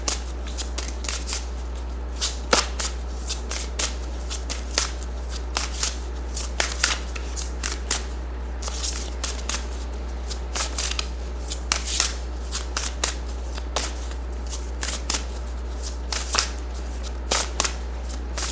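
Tarot cards being shuffled during a full moon reading, repeated crisp riffling bursts and soft card slaps in an irregular rhythm, close and fairly quiet against a low steady hum.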